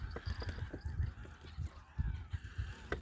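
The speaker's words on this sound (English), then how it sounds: "I don't know if it's breeding season for noisy birds." Geese honk repeatedly in a noisy, overlapping flock, faint and at a distance, with irregular bursts of calls.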